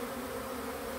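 Honey bees from a swarm hum around the hive as they land and crowd at the entrance, one even, unbroken buzz held throughout without speech.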